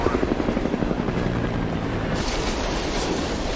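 A news helicopter, Chopper 43, hovers over a runaway freight train in the 2010 film Unstoppable. Its rotor throbs loud and steady, then thins into a windy roar that carries straight through.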